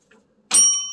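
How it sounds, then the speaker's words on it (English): A single bright bell ding rings out loud and alone, its clear tone ringing on and slowly fading. "Hit the bell."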